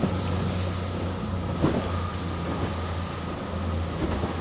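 A boat throttles back as it heads into the harbour: a steady, droning engine hum with a low throb, constant and fairly close, over wind and water noise, with no talk.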